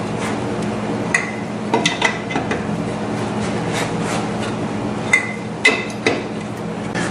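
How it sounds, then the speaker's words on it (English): A lug wrench tightens lug nuts on a 2002 Dodge Grand Caravan Sport, giving sparse metallic clicks and clanks scattered over a steady background hum, with no talking. "Take your lug wrench and put a little more pressure on it, tighten them up, and do so in a crisscross pattern."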